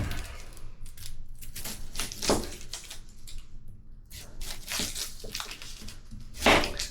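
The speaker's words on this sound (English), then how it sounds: "So now what we want to do is we're going to take and we're going to cut up some onion." A kitchen knife cuts up an onion on a cutting board, giving close, irregular chops and crisp slicing clicks with short gaps between strokes.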